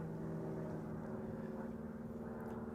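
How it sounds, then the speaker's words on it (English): An airplane drones steadily overhead, a continuous low rumble with harmonic hum that holds at a constant, moderate level through the whole stretch without voices. "you hear that airplane?"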